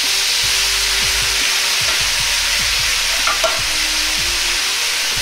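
Soy sauce poured into a hot wok for a pork and bamboo shoot stir-fry, a loud continuous sizzle and hiss with soft, repeated scraping and stirring knocks underneath.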